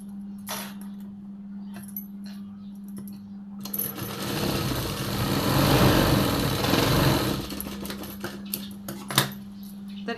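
Sewing machine stitching tucks on a blouse, a steady mechanical whir that swells louder in the middle of the run over a constant low hum, with a few light clicks before and after.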